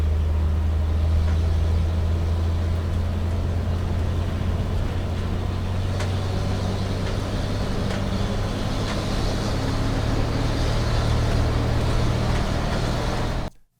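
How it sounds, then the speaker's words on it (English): A Dodge military truck runs fast with a loud, steady low engine roar and drone throughout, ending abruptly. "This is a Dodge military truck driving fast."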